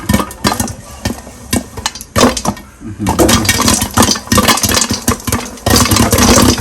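Loud, dense popcorn popping inside a covered curry pot, rapid irregular cracks and pops overlapping into a continuous rattling clatter.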